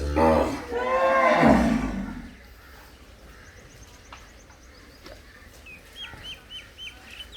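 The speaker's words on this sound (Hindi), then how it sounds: "ये अपनी बुलबुल है जी।" A bulbul in a yard with other animals gives short, bright chirps and whistled notes toward the end, after a loud, close mix of poultry and animal calls at the start.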